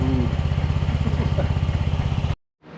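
Honda CR500 engine fitted to a Schwinn bicycle frame fires and runs with a loud, steady, rapid two-stroke putter close by, then cuts off abruptly near the end before a faint sound returns.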